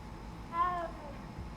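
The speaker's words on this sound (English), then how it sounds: "Cat. Oh, it's an orange baby too." An orange cat in the video game Hogwarts Legacy gives a single clear, rising and falling meow in the middle of quiet background ambience.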